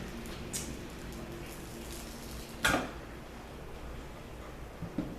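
An Essential Depot cutter slicing a bentonite clay and activated charcoal soap block: one crisp, brief wire-cutting clack midway through, with faint knocks and clinks before and after in a quiet room.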